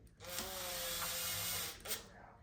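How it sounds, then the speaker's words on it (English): A power drill whirs continuously for about a second and a half, pre-drilling into a small wooden fingerboard obstacle, then winds down with a short burst at the end. "I'm gonna do a little pre-drill on this just so it's gonna be a little easier to drill it in"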